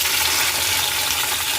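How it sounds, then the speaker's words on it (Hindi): Steady, loud sizzle of potato and capsicum sabzi frying in a pan with garlic, a dense continuous hiss close up with no talking. "लहसुन ऐड कर दिया है, अब मैं इसमें सब्जी ऐड कर रही हूँ।"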